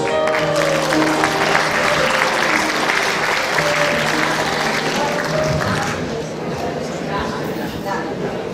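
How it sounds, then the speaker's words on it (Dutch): An audience at a revue show tribute breaks into sustained applause, dense and steady, with a faint voice or music showing through before the clapping tapers slightly near the end. "Geef hem een goed applaus."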